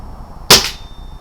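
A BSA R10 Mk2 air rifle fires a rifle series slug, giving a single sharp, loud crack that ends in a short ringing tail against a quiet background.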